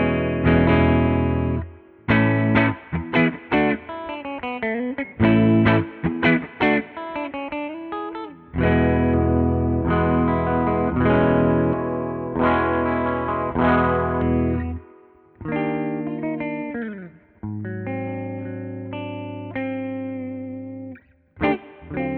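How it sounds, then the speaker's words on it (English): A Fender Jazzmaster electric guitar with a Bigsby vibrato, played on its middle pickup position through heavy distortion, rips out loud sustained chords and bent riffs in phrases separated by brief stops, with no voices. "These pickups really rip with some distortion."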